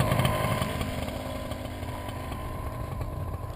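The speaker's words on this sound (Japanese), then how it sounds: "ずっと走りながら今度はエンジンを吹かす。" Motorcycle engine revving steadily while riding straight during a training session, a buzzy continuous drone with a slight swell at the start, outdoors in light wind with no talk.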